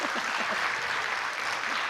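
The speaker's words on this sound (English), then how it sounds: "And now you can clap." Audience applause at a research talk on Lennox-Gastaut syndrome, a steady dense wash of clapping throughout with no gaps.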